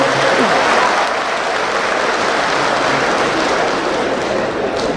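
Steady, dense applause from a large crowd fills the whole stretch, loud and continuous without a break.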